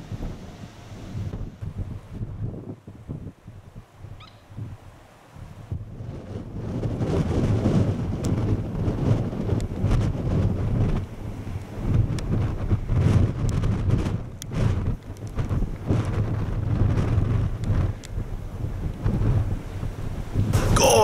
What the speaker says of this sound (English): Getting really windy now.